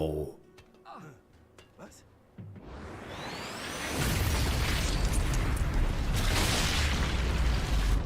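A grenade exploding in the game Sniper Elite, a loud rumbling blast with a whooshing burst that swells and sustains after a stretch of quieter talk.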